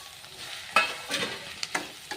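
Capsicum frying in a pan as tomato goes in, with a steady sizzle broken by several distinct stirring scrapes and clatters, close and fairly quiet, no voices.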